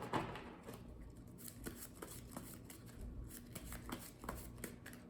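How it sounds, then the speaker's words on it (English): A player deck of game cards is shuffled up close, with soft riffling bursts and light taps repeating quietly throughout. "let's shuffle up our player deck"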